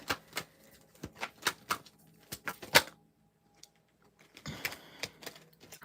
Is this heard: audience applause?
no